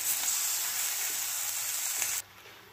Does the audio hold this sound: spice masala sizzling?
yes